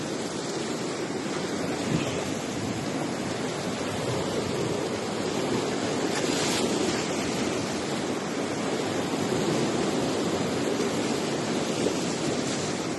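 Rough, choppy sea waves surge and wash continuously along a shore, a dense roaring hiss with slight wind buffeting on the microphone and no voices.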